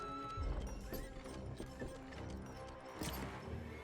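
Horses clip-clop and whinny in the Stronghold Warlords strategy game during a multiplayer match, with hoof beats and scattered game effects layered over a busy mix.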